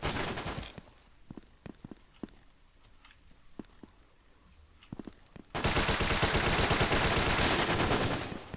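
Gunfire in the 2D multiplayer shooter BRAIN / OUT: scattered single shots and short bursts at first, then a loud, dense sustained automatic burst for the final few seconds, with no talking.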